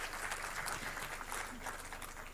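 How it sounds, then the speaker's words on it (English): Soft applause from an audience for conference panelists at a World Telecom Day event, a continuous faint patter of clapping heard from a distance throughout. "can we have a huge round of applause for all the panelists"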